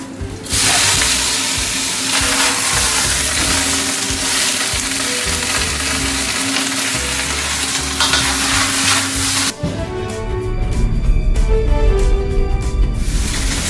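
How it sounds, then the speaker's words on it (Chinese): Cabbage stir-fried with garlic in a smoking-hot wok for hot-and-sour cabbage, a loud, continuous close sizzle and hiss with scraping and tossing, shifting to a harsher, steadier fry toward the end. "最喜欢炒菜那个啪的声音"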